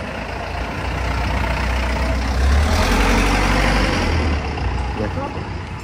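A Yamato Transport Kuroneko delivery truck rumbles past on a street, a loud low engine roar swelling to a peak mid-way and then easing off, with steady road noise throughout and no speech.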